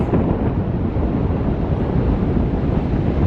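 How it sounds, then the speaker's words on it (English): Steady southwesterly wind gusts across the mic at an estuary ocean shore, a dense, loud roar with surf rumbling underneath and no voices. "with the southwesterly wind tugging at the nape of my neck"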